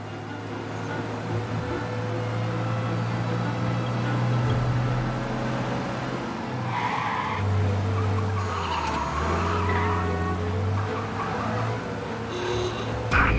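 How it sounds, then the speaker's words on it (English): Car in the video game Mafia racing away from the police: a steady engine drone with shifting pitch and occasional tire squeals, sustained and fairly loud with no voices. "We lose them by driving real fast and getting clear of them."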